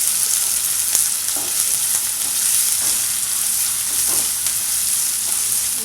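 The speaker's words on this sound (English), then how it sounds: "Allow the onions to fry on a slow flame." Onions frying in oil in a pan over a slow flame, a steady broadband sizzle with soft crackles and occasional stirring clinks, close and continuous with no talk.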